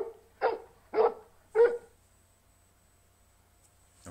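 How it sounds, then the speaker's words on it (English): A dog gives three sharp barks at an even pace, fairly close and clear, followed by near silence. "obviously that was the sound of a dog barking"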